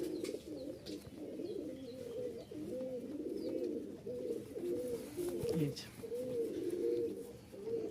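Biscuit-coloured pigeons held for sale coo in soft, repeated throaty rolls close by, a steady run of overlapping calls with faint background chirps.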